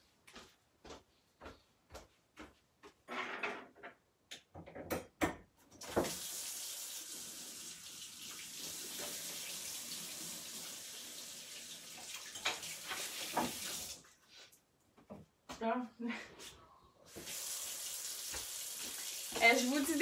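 Water from a tap runs into a sink indoors with a faint hissing splash, starting and stopping several times among small clicks and handling noises.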